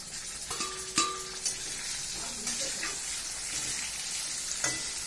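Vegetables fry in a pan with a steady hiss and sizzle, joined by a few short clinks of utensils against the cookware. The sound stays close and moderately quiet, and nobody speaks.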